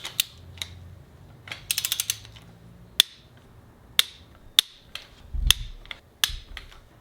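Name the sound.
bolts being tightened in sequence with a torque wrench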